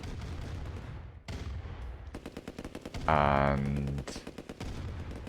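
Rapid machine-gun bursts and heavier cannon booms from a tank battle in Command & Conquer: Red Alert Remastered, stuttering in clustered volleys with a loud blast midway, while a commentator talks briefly.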